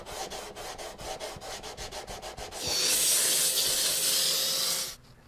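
Sandpaper rubs across a guitar fretboard, first in quick rhythmic back-and-forth strokes, then in a loud continuous hiss that stops abruptly, all close up.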